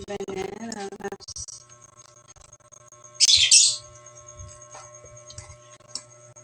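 Pet birds chirping indoors in a home kitchen where banana muffins are being made, with scattered faint tweets, a brief voice at the start and one loud, sharp burst of chirping midway.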